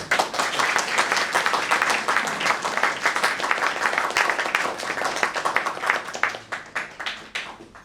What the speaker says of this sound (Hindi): एक बार इन सब प्यारे बच्चों के लिए तालियों के साथ उनका उत्साह